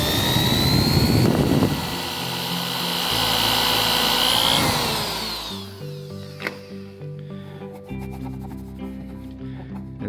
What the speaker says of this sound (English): we will find the end of that crack right there and drill a hole in it